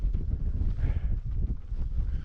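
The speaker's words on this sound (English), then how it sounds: "Gray skies and windy." Gusty wind on the Appalachian Trail under gray skies buffets the microphone with a low, rumbling rush that swells and dips over a couple of seconds, with no one speaking.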